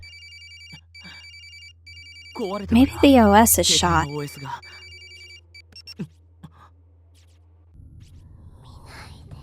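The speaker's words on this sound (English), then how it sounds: "There's no message telling me who's calling either. Just a ringtone." A synthetic phone ringtone in Corpse Party on PSP repeats in short electronic bursts, stopping and starting, while a voice speaks briefly partway through.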